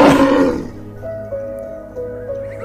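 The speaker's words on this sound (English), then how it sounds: "Tiger." A tiger gives a loud, rough roar at the start that fades within about half a second, leaving a quieter tonal hum and soft background noise for the rest.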